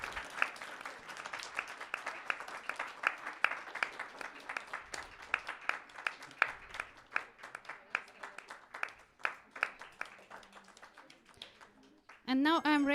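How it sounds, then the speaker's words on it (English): A small audience claps at an awards announcement after a pitching session, the clapping uneven and fairly close before a brief loud tonal burst cuts in at the end. "So yeah, please, applause."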